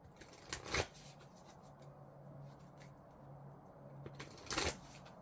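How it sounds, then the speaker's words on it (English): A Moonology oracle card deck being shuffled in two short riffling bursts, one near the start and one near the end, close and faint over a quiet room. "I'm going to get some cards from the Moonology deck."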